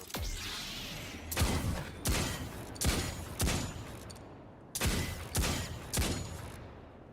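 Shotgun blasts ring out in the video game Destiny 2: seven loud, booming shots in an uneven rhythm, each with a short decaying tail, and no talking.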